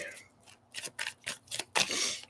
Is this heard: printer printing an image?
no